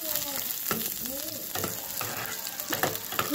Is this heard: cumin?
yes